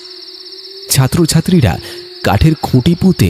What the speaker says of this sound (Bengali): মাঠের চারপাশে ঝিঝির ডাক